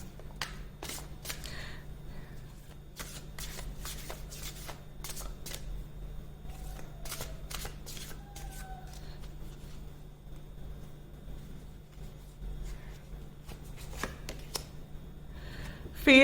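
Tarot cards being shuffled in quiet, faint bursts of soft riffling and flicking over a low steady hum, with no talk.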